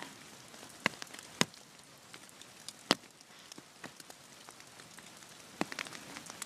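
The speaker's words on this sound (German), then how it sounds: "so ein Eisregen regnen würde." Freezing rain in March snow and thick fog patters onto an umbrella overhead, a soft continuous hiss broken by sharp, irregular individual drop impacts close above.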